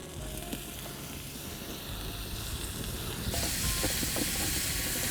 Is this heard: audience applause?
no